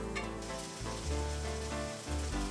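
Sausage meat frying in a pan, giving a steady close sizzle and crackle with no talk over it.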